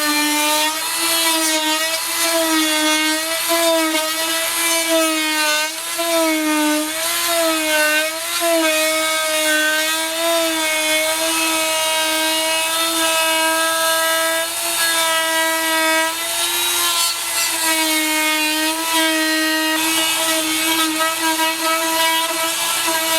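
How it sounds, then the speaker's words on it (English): An oscillating saw cuts a groove into aluminum-clad exterior door brickmold trim, a loud, steady buzzing whine that holds for the whole stretch with slight wavering in pitch and no talking. "I'm going to take my oscillating saw here, and I'm going to cut a groove just along here"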